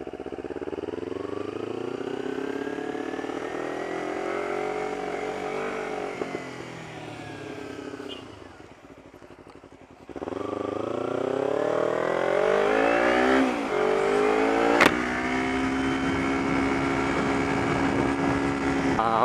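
A motorcycle fitted with a slip-on exhaust rides and accelerates, its engine note climbing through the revs, easing off briefly mid-way, then pulling hard again loud and close to the microphone.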